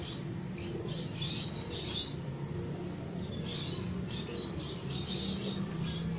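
Steady soft cooing and chirping from pigeons in a loft carries through the whole stretch, a continuous flock murmur with no voices over it.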